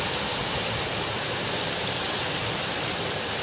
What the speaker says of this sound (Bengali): তো এখন জোরদার বৃষ্টি নেমেছে,